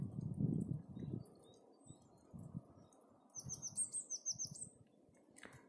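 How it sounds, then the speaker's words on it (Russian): Small birds chirp and sing outdoors in a quiet village in early spring, bright repeated calls across the clip with brief low rumbles or footsteps in between. "Птички поют."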